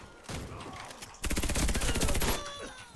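An FN P90 submachine gun in Warface fires a short burst, then a longer rapid automatic stream of close, loud shots that stops abruptly, with quieter game noise before and after.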